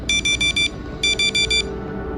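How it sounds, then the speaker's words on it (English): A timer goes off with two bursts of five quick, bright beeps each, close and clear over a faint steady hum. "20 minutes is over, the timer goes off"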